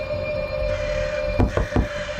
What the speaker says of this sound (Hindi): उसके कमरे के दरवाजे पर किसी ने 2 बार दस्तक दी